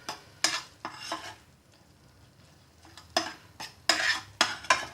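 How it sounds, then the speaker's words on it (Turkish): A spoon scrapes and clinks around a pot of simmering red lentil soup as butter and red pepper powder go in, in uneven bursts of stirring separated by quieter pauses, close up with no voices. "Ardından şöyle bir tatlı kaşığı tereyağımızı ilave edelim ve karıştıralım."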